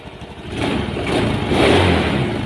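A Honda Beat scooter with a battery-drain problem, its engine revving steadily at close range, a sustained mid-pitched drone that rises slightly in the second half, with no talk over it.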